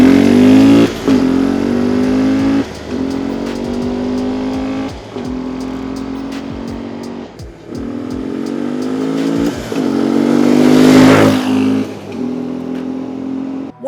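Vehicle engine at full throttle driven through an air-powered gear shifter, loud and close, revving hard in rising sweeps with abrupt drops at each quick upshift, repeated about five times.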